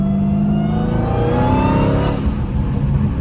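A Hellcat car engine revs up with a rising, high-pitched supercharger whine over the roar, then eases off, recorded from inside the vehicle.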